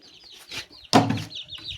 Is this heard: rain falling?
no